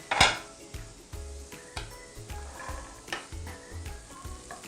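Carrots tip into a hot pan of fragrant spices and sizzle as a spoon stirs them, with repeated scrapes and clinks of utensil on pan over a steady fry.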